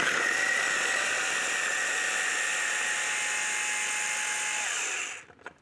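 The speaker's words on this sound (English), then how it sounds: "Lid goes on, and we just want to blitz that until we get a fine puree" A food processor blitzes onion and ginger into a fine puree for egg curry, a loud, steady high-pitched whir running for about five seconds before cutting off abruptly.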